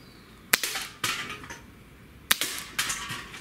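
A Hatsan H-1911 CO2 .177 pellet pistol fires four sharp, close snapping shots in two pairs, each crack ending in a short metallic ring over quiet surroundings.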